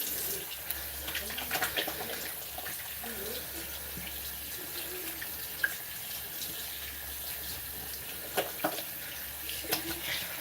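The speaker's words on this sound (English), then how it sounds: "Gonna hear the sink running for a second." A sink tap running steadily while hands are rinsed during an at-home hair dye touch-up, a continuous close water hiss with small splashes and clinks rising briefly above the flow.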